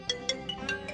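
A phone rings with a quiet, repeating electronic tone in five evenly spaced pulses, steady and somewhat distant.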